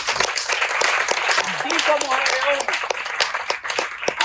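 A church congregation applauds in a steady, full burst of clapping while a voice carries on over the top, the sound staying dense and close throughout.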